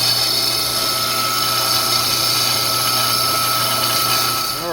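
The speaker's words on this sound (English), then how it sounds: "I'm just going to stick it on the disc sander and let it do its thing" A disc sander grinds a metal motor mount for a 17-inch mini hydroplane kit, a steady loud whirring drone with constant abrasive hiss and no talking.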